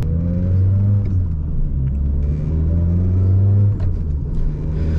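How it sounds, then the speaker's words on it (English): Supercharged Toyota Corolla XRS engine cruising under steady load in normal day-to-day driving, a constant loud low drone with faint supercharger whine rising above it, continuous with no talk. "I can still hear the supercharger whine"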